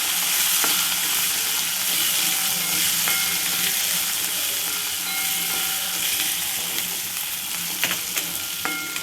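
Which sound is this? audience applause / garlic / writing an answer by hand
garlic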